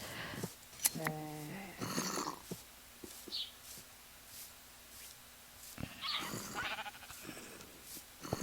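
Sheep bleating in Minecraft, a few short wavering cries spread through the stretch along with scattered game clicks and thuds, fairly faint over a quiet background.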